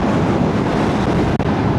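Steady, loud rushing wind roar buffeting the microphone while riding a 2025 Kawasaki ZX-4RR motorcycle, constant and broadband, with no voices.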